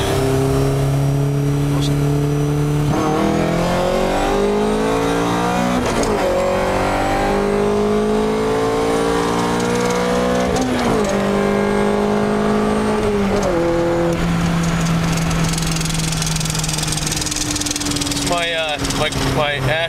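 Honda CRX with a B16A engine pulling hard in-car, engine note climbing loudly through the revs with several sharp gear-change dips, a steady drone throughout and a sudden whining rise near the end.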